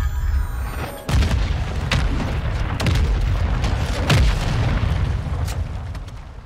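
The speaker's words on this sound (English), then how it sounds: "Another nuke." A nuke killstreak detonates in Modern Warfare 2, setting off loud, rolling booms and blasts that rumble on continuously for several seconds, with no voices over them.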